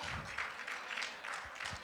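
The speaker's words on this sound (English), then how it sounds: "Please give him a round of applause." A gala audience of the Indian American Medical Association in Illinois gives a round of applause, a soft, distant wash of many hands clapping steadily throughout.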